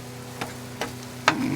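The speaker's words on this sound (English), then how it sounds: "Now I'm gonna add the shallots and the garlic. I'm gonna cook this as well." Shallots and garlic frying on a hot griddle over medium-high heat give a low, steady sizzle, broken by three sharp scrape-like clicks spaced roughly evenly.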